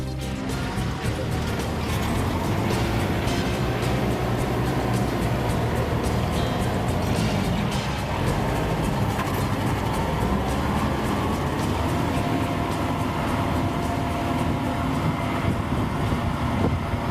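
Lightweight Kubota tractor pulling a two-bottom moldboard plow through hardening new ground, a steady droning engine rumble heard continuously, close and fairly loud, with wind buffeting the microphone throughout.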